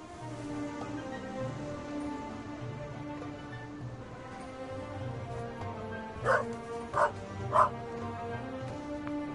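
A dog in The Raven Remastered game gives three sharp, close barks in quick succession near the end, after a stretch of low background sound.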